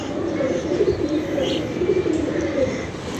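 Pigeons coo steadily in a loft, soft repeated throaty calls close by over a constant background hum.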